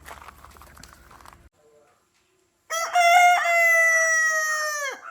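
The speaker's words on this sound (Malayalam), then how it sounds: "ഇപ്പൊ ഇപ്പത് ചിറകൊക്കെ കുടഞ്ഞിട്ട് കൂവാൻ വന്നപ്പോ ഞാൻ ഭയങ്കര പഞ്ച് സൗണ്ടാ പ്രതീക്ഷിച്ചത്" A rooster crows once nearby, a loud, drawn-out call lasting about two seconds that trails off at the end, following a moment of quiet and some faint earlier rustling.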